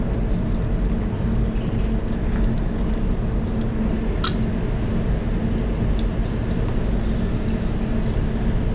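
Water rinses a Suzuki car bumper part in a bodyshop paint area, a steady loud hiss of spray and runoff with a brief sharper splash midway.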